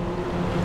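A Fregat 550 motorboat with a Hidea outboard motor runs at speed, a steady droning hum with wind and water rush in a brief, continuous burst.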